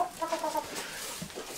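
Roosters kept apart from the hens in a barn give a few soft, quick clucks early on, faint against low background noise.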